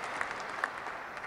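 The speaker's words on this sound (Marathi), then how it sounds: "टाळ्यांचा कडकडाट होतो" A large crowd at Donald Trump's presidential inauguration breaks into thunderous applause, loud and continuous, with a few sharper claps standing out.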